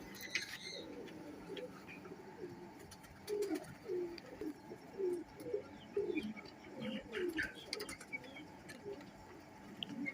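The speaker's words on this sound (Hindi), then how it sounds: "माशाल्लाह बच्चे उड़ाने वाला कबूतर है ये" Domestic pigeons, including a breeding male, coo in a steady series of soft, low, rolling calls, with faint chirps and light background noise.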